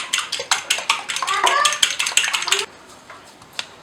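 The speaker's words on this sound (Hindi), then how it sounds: "अंडे को अच्छी तरीके से फेंट लेंगे हम" Eggs being beaten for chicken cutlets, a utensil whisking quickly against a bowl in a rapid clattering rhythm for about two and a half seconds, close and fairly loud, then stopping into near quiet.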